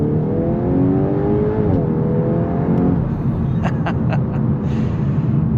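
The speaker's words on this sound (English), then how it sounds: "we'll get us up to 25, floor the throttle, let the transmission do its thing, and see how fast we can get up to speed" A 2025 VW Golf R accelerates at full throttle from about 25, engine droning loud and close with rising pitch, then a gear shift, rising again as tyre and road noise builds.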